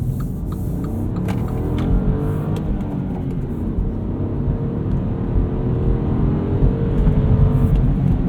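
The turbocharged three-cylinder engine of a 2019 Mini Cooper two-door hardtop Oxford Edition with a six-speed manual pulls steadily under acceleration, a loud continuous drone whose pitch climbs gradually along with road and wind roar.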